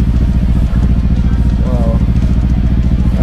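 A first-generation Honda PCX160 scooter engine idles close by with a steady, low, pulsing throb while a person talks over it.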